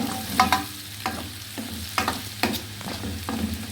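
Onions sautéing in a pan for fava beans with sesame, a steady sizzle broken by several sharp scrapes and stirring knocks of a utensil, close and fairly loud, no talking.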